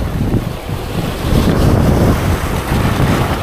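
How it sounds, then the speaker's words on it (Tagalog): Sea waves wash and crash around a small fishing boat out on the water, a steady roaring surge thickened by wind buffeting the microphone, continuous with no voices. "May hambakan ng alon."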